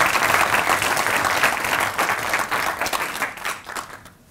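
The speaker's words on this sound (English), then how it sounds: "I think we can give them another round of applause." An audience at a university distinguished awards ceremony for teaching, research and support applauds the recipients, a loud, dense wash of many hands clapping that tapers off and fades out near the end.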